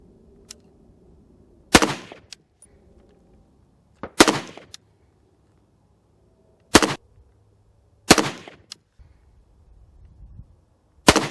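Five sharp, loud .308 rifle shots with M118 LR ammunition through a Saker 762 on the muzzle, fired one at a time at irregular intervals of a few seconds, each a crisp crack with a short decay into near silence.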